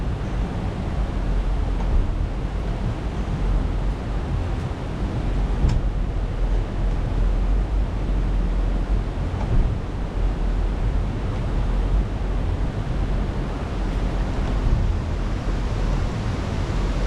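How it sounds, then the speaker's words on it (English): Steady broadband wind roars across a microphone aboard a moving boat, with rushing water underneath, continuous and loud for the whole stretch without any talking. "Big gust of wind."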